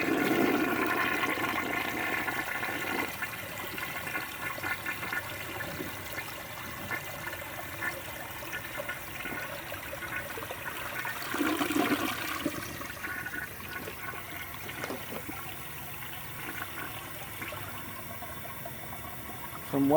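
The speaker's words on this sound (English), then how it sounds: "So we'll give it a flush." A vintage American Standard compact toilet flushes with a loud rushing gush of water, then settles into a steady refill hiss and trickle, heard close with no talking.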